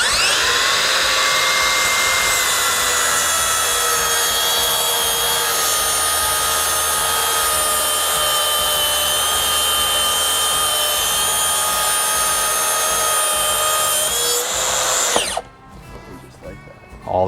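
A Makita track saw whines at full speed through a long plunge cut, loud and steady at close range, then winds down abruptly near the end.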